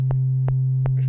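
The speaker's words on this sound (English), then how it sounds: "a sine wave" A pure synthesizer sine tone from a bass synth hums steadily and loud, broken by three short clicks at regular intervals and a faint flutter at the end.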